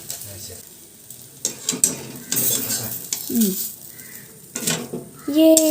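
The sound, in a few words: egg frying in a pan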